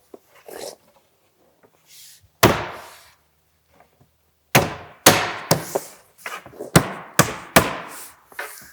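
Cabinet parts for a lower cabinet with one drawer and doors are tapped into place, producing sharp wooden knocks. A few isolated taps come first, then a quicker series of firm, close strikes.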